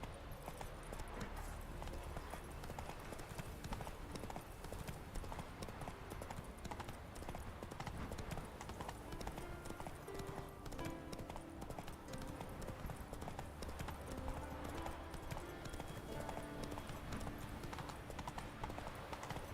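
Roach, the horse in The Witcher 3 video game, gallops with a constant rapid clip-clop of hooves, steady and close, under game ambience and background music.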